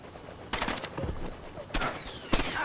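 Gunfire in the stealth game Splinter Cell Chaos Theory: two loud bursts of shots, one early and one later, with short sharp cracks between them over a busy game soundscape.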